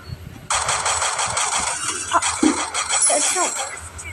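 Automatic gunfire in the Free Fire mobile battle game, a loud sustained run of rapid shots starting abruptly and continuing to the end, with faint background noise underneath.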